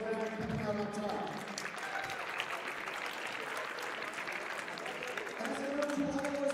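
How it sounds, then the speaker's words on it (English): Audience applause at a speedcubing championship, a steady wash of clapping from a crowd sustained throughout, with voices talking over it near the start and again toward the end. "So another big round of applause for that coming out on top."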